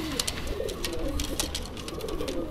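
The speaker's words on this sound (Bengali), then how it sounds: "তো চরম কবুতর দুইটা কবুতর ছেড়ে দেখাচ্ছি" Two quality pigeons let loose, with soft cooing and bird calls over a steady background of rustling and wingbeats, fairly continuous and close.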